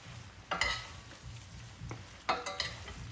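Pasta in tomato paste with dried mint being stirred in a pan, with a couple of soft scraping strokes and faint sizzling, close and quiet, with no talking.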